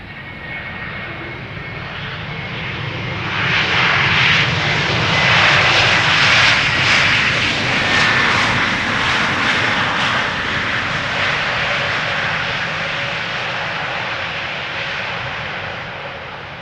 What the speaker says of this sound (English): A321neo.